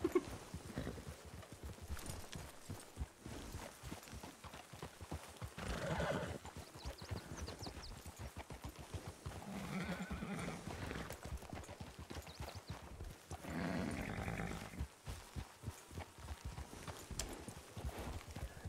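Horses in the RedM western roleplay game whinny and neigh repeatedly over steady clip-clopping hooves, with louder bursts around several points and continuous movement throughout.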